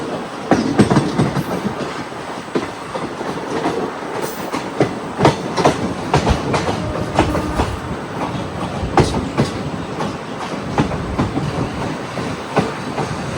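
A hydrogen-powered passenger train runs along the Sonipat–Jind line, its wheels clattering steadily over rail joints with loud, rhythmic clickety-clack bursts and a continuous rolling rumble, heard close from on board with no talking.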